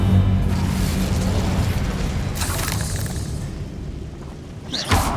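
The Incendio fire spell is cast in the Hogwarts Legacy video game, giving a few booming, whooshing bursts amid rumbling magical combat noise, with one sharp burst near the end.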